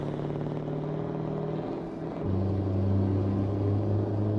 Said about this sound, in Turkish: Tüneldeki sese bak.